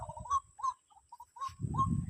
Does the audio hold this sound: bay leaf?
no